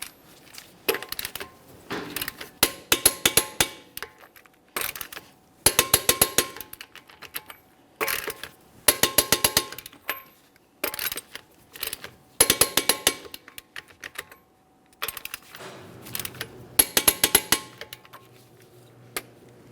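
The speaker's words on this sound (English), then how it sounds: "we'll be torquing these to 130 in a crisscross manner" Torque wrench clicking in bursts while the lug nuts on a 2011-2021 Jeep Grand Cherokee wheel are tightened in a crisscross pattern; sharp metallic ratchet clicks repeat in groups with short pauses, close and loud.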